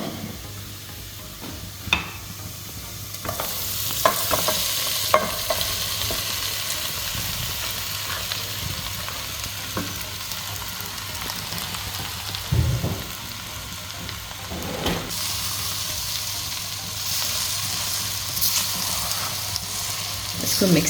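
Chopped onions and potato samosa filling sizzle and fry in a pan while being stirred, a steady close crackle with occasional scraping clicks from the spoon running throughout.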